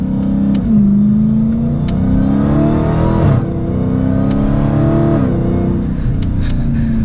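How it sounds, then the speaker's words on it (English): A Dodge Challenger SRT Hellcat Redeye on the road, its supercharger whine rising and falling with engine speed over a steady engine drone, heard from inside the car while driving, with a few light clicks. "I'm sure you can hear that supercharger whine."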